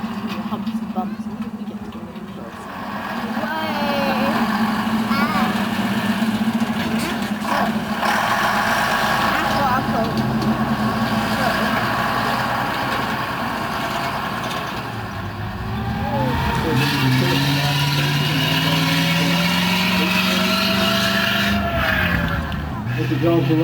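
A Saracen armoured vehicle's engine rumbles loudly and steadily as it drives away at a military history museum display, its pitch dipping and rising with throttle changes while someone narrates over it.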